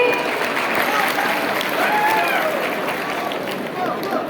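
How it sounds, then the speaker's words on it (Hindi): Applause from a crowd at a Winners foundation-day celebration, with steady, dense clapping and cheering that fills the whole stretch at moderate loudness. "एक बार जोरदार तालियां"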